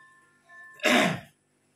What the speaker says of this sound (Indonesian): Ya Allah, masih batuk.